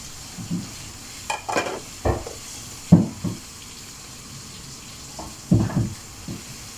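Green peppers fry in a pan, with intermittent scraping and stirring strokes over a low steady sizzle, with a few clustered bursts of stirring and quiet pauses between.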